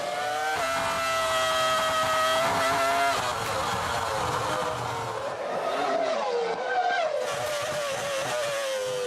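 A Ferrari Formula One car from the 2004 season screams past at high revs, a loud, sustained engine whine with shifting pitch and gear changes throughout.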